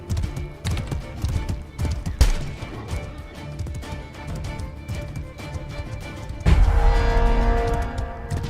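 A horse's hooves clip-clop in the medieval combat game Mordhau, a fast, steady run of loud hoofbeats lasting several seconds, with a heavier crash-like surge near the end.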